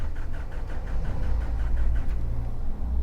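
A Hyundai Santa Fe engine cranks over on a weak battery without starting, giving a steady rhythmic low churning pulse that continues without a catch, close and fairly loud.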